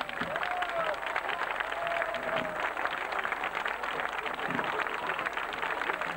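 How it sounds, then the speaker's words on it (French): Outdoor crowd at a Napoleonic military camp battle reenactment applauding volunteer reenactors, a steady wash of distant clapping at low level with faint voices. "On peut les applaudir."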